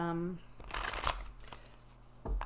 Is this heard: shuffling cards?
yes